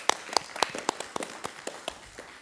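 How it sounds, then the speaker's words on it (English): A small round of applause for school nurses and nurse aides at a board of education meeting, a dozen or so spaced, fairly faint claps from a sparse group over a couple of seconds. "just give them a round of applause"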